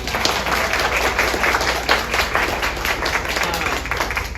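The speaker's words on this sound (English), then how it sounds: "let's give her a round of applause." Steady applause from a crowd at a League of Women Voters annual meeting, dense and continuous clapping throughout with some voices mixed in.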